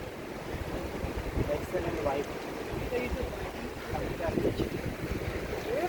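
Strong monsoon wind roars and buffets steadily at Shrivardhan beach on the Konkan coast, India, a continuous low rumbling gust with surf-like swells of noise.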